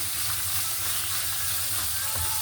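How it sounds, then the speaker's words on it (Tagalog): Onions frying in a pan for a pork liver adobo dish, a steady close sizzle with bright crackling hiss running continuously throughout, no voices. "Fry natin yung sibuyas."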